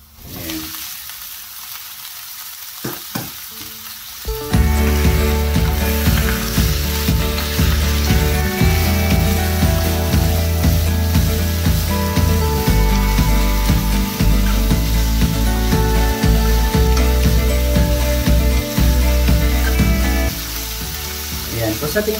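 Pre-cooked pork belly hits a pan with ginger for Bicol Express, bursting into loud, steady sizzling and frying that continues close and unbroken, with occasional stirring scrapes.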